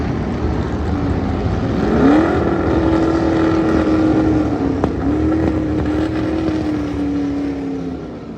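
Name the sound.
Shadow Can-Am race car engine, 900hp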